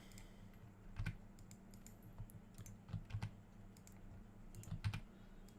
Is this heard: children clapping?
no